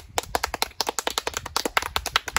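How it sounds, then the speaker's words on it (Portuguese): A small group of people claps for the police, a quick burst of close, sharp handclaps in an uneven rhythm lasting a few seconds. "Uma salva de palmas pra polícia!"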